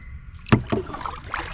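A wooden paddle strikes and pulls through water beside a small boat, with two distinct splashing strokes close by followed by softer gurgling, no speech.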